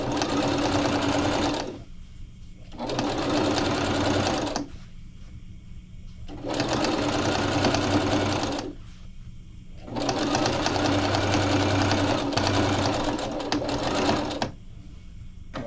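Sewing machine stitching a floral crossbody bag, running in four loud bursts of steady rapid chatter with short quiet pauses between them.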